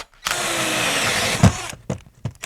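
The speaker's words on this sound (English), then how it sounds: "Let's start drilling, get our pipes ran." Power drill boring through a wooden floor joist to run water pipes, a close, loud steady whine lasting over a second, then stopping abruptly, followed by a few short knocks and clatters.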